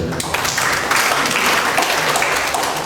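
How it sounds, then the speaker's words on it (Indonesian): A seated crowd applauds the NTT governor at a migrant-worker protection signing event, with dense, even clapping filling the room at full volume from start to finish. "Sekali lagi tepuk tangan untuk gubernur."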